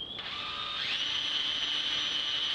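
A steady high-pitched whine of a drill with a hole saw cutting through perspex, continuous and close, rising slightly in pitch as it bites.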